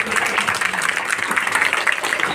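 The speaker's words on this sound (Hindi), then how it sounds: "एक बार जोरदार तालियों के साथ उनका स्वागत करें" A crowd at a political rally applauds loudly to welcome a candidate, a dense and continuous wash of clapping that stays close throughout.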